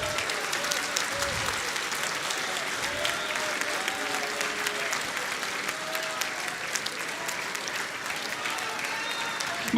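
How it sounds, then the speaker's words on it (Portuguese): A church congregation applauds during a Portuguese-language service, a steady wash of many hands clapping at moderate distance that fills the whole stretch without a break. "Aplauda ao Senhor Jesus."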